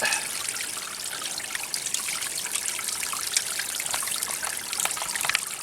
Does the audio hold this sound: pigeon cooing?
no